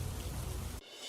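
Heavy monsoon rain pours in Khambhalia, a dense steady hiss that cuts off abruptly near the end.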